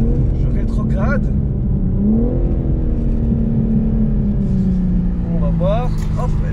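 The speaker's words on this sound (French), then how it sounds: "on va tester le freinage. Hop, donc je suis quand même à une vitesse assez élevée, je rétrograde" BMW M4 Competition braking hard from high speed with a downshift, heard from inside the cabin as a loud steady engine drone with a pitch sweep, while someone talks over it throughout.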